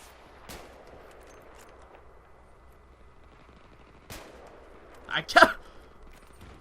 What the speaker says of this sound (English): This gun does not sound how I expected it to sound.